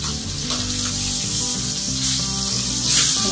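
Pork chops sear in a skillet over medium-high heat with butter and herbs, giving a steady, close crackling sizzle that swells slightly toward the end, with no talking.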